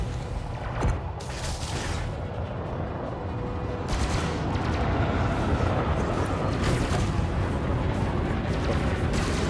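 Repeated plasma cannon shots from a Fer-de-Lance in Elite: Dangerous boom out in a steady barrage during a space dogfight, loud and dense with rumbling blasts running the whole stretch.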